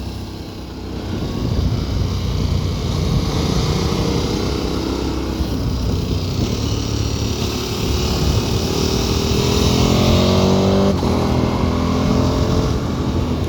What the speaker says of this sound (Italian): si sente come ruzza forte sto motore